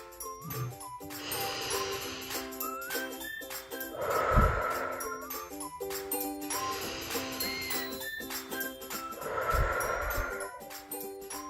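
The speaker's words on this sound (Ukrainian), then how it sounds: "А зараз робимо вправи на дихання. Вдих, видих." Children breathe in and out together during a breathing exercise in a physical development class. Four soft, drawn-out breath sounds rise and fall in an even rhythm over quiet background music with light tinkling.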